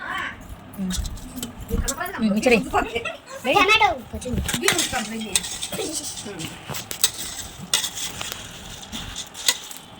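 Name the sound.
mixing food with salt and chili in a pot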